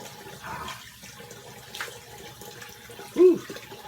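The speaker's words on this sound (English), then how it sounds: "Cold water rinse." Cold water running from a bathroom tap and splashed onto the face as a rinse after a wet shave, a steady close-up wash of flowing and splashing water throughout, with a short breathy vocal sound near the end.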